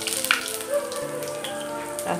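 Panch phoron and hing drop into hot oil in a kadai over lowered heat, producing a continuous close crackling sizzle with a few sharper pops, steady and moderately loud.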